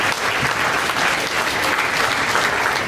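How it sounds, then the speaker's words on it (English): A gala audience at a scholarship and awards night gives a loud, continuous round of applause, a thick even roar of many clapping hands with faint crowd voices underneath, steady throughout. "So give those guys a round of applause again for being here."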